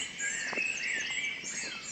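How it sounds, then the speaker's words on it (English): A song thrush sings in a car park, a brief run of clear, high phrases carried over faint background noise. "there's a song thrush"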